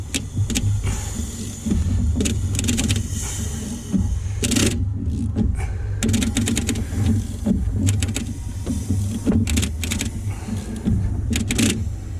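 Repeated bursts of rapid ratchet clicking as a 2008 Volkswagen GTI's seized engine is turned over by hand, over a steady low mechanical hum, close by, coming in several short runs.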